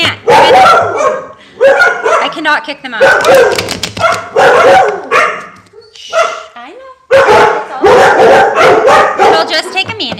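Several dogs bark loudly and repeatedly at a trash collector, in bursts of yaps and whimpers close by, with someone talking and shushing them in between.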